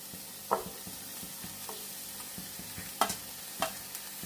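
Thazhuthama leaves being stirred into coconut paste in a pan, with a few soft scraping strokes and faint sizzling over a quiet kitchen background.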